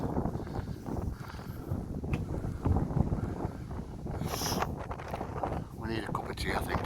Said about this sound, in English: A bit windy, I didn't expect it to be windy and rainy